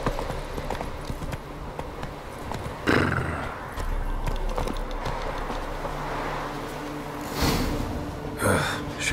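Roach, a horse in the video game Witcher 3, moves with clip-clopping hooves, with a whinny and snorting breaths breaking through the steady hoofbeats.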